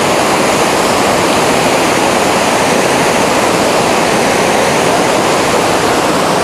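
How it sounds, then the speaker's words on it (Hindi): Loud, constant rushing of a fast-flowing mountain stream in Gilgit, close and unbroken, with no other sounds. "और कितने शोर है इस पानी में।"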